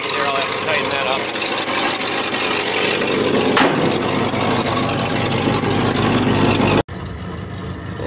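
An Oldsmobile engine idles steadily while warming up, a loud, continuous rumble recorded up close that holds evenly before dropping slightly near the end.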